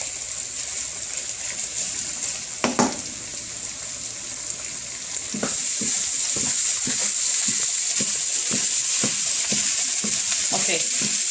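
Beef for hibachi fried rice sizzles steadily in a hot pan, with a run of clacking spatula strokes stirring the meat through the second half over the constant frying hiss.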